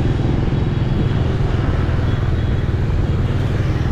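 Motorbikes idle and rev at a red-light intersection in rainy Huế, Vietnam, a loud, close, continuous engine rumble with no break.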